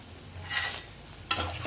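Peanuts tipped into hot tempering oil for rava upma crackle up in two short bursts, a brief sizzle and then a sharper splash of frying, close and alone against a quiet kitchen background.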